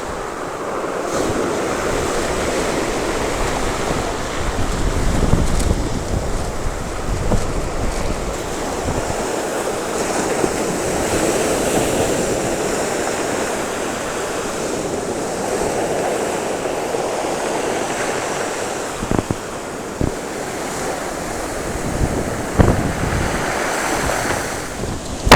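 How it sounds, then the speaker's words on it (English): Strong wind gusts roar across the microphone during a walk by the sea, with waves and surf breaking underneath. The blustery noise stays loud and continuous throughout, with no one talking. "I'm going to leave the windy sounds in."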